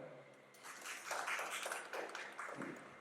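A quiet, distant crowd claps for actor Ajay Tapkire, who plays Prabhakar Surve in Inspector Manju. The applause swells briefly at a cast introduction and tapers off within a few seconds.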